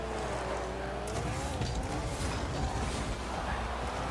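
Cars in the video game Rocket League driving around, a continuous engine drone with wavering pitch and some mechanical rattles, steady and fairly loud throughout.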